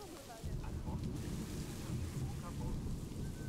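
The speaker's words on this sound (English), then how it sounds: "Heavy rain coming through." Heavy rain pours with low rumbling thunder in the Planet Zoo game, a steady, dense roar of downpour that continues throughout at a moderate distance.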